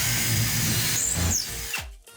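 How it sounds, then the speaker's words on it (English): A power drill bores bolt holes while a TV is mounted on a wall bracket, a loud close whine that rises and falls in pitch, then cuts off abruptly toward the end. "So I'll go ahead and drill."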